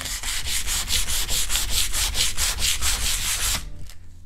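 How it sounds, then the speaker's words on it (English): Rapid back-and-forth strokes of 120-grit sandpaper scratch across wood along the grain, loud and close, in an even rhythm that stops near the end. "This is 120 grit sandpaper. We're gonna use it and get the entire surface smooth."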